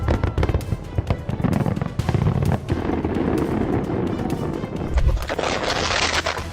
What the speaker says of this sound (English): How many points would you give this amazing fireworks display in Japan?